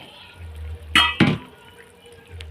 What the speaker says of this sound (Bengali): জলটা ফুটে উঠেছে, এখন আমি কপিগুলো দিয়ে দেবো, ফুলকপিগুলো।